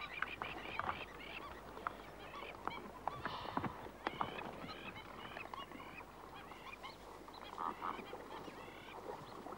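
Plovers at an African waterhole call harshly and repeatedly in defense of their nest, a run of scratchy honking cries over a low background murmur.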